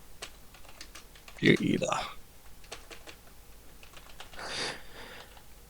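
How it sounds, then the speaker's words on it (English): Fingers tap at a computer keyboard in quick, uneven bursts of crisp clicks nearby, with a person speaking briefly partway through and again near the end. "I'll be good if I could type today, but struggling a little bit."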